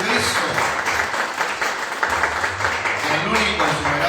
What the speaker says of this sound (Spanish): Le damos un fuerte aplauso a nuestro Rey Jesucristo